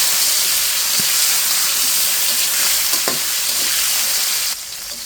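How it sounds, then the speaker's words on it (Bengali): Hilsa fish pieces coated with turmeric and salt fry in hot oil in a pan, giving a loud, dense, continuous sizzle up close, with a few faint clinks and the hiss easing slightly near the end. "মাছটা কিন্তু একদম ভাজা হয়ে গেছে"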